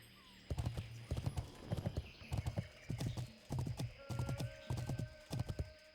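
Horse hooves clip-clop in a steady rhythm during a ride through a jungle marsh in World of Warcraft, with a paladin's mount trotting in repeated bursts of hoofbeats and a brief whinny-like tone under faint game ambience.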